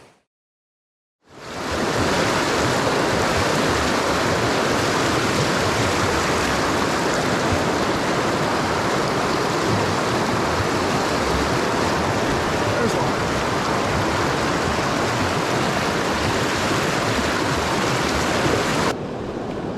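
A backcountry river in Washington's Cascade Mountains rushes steadily, a dense, loud, unbroken wash of flowing water that starts after a brief silence and continues without pause.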